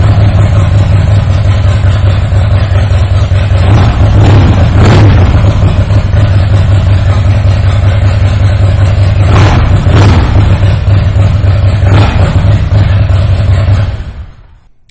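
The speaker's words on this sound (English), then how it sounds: "I am going to take the opportunity right now to fire this bike up so you can hear that exhaust." A 2003 Harley-Davidson Softail Deuce with chrome exhaust runs at a loud, steady idle, a deep throbbing rumble with a few slight swells in revs, before cutting off abruptly near the end.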